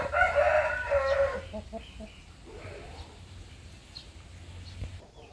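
Gold partridge chickens on a farm give a loud rooster crow first, followed by softer scattered clucks, with a voice briefly heard nearby.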